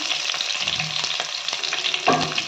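Curry leaves, mustard seeds and finely chopped green chillies spit and crackle in hot oil, a steady close sizzle with scattered pops and a louder burst near the end, no voices.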